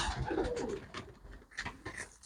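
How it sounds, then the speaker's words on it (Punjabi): Pigeons let go one at a time give soft coos and brief fluttering calls, close by and fairly loud, with a couple of separate bursts across a short stretch. "ਹੁਣ ਅਸੀਂ ਕਬੂਤਰ ਛੱਡਣ ਲੱਗਿਆ"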